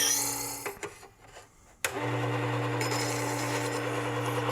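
A Worksharp 3000 sharpener with a CBN wheel grinds metal off a knife blade bevel, a steady whirring rasp that cuts out briefly, then resumes loud and continuous with a low motor hum underneath.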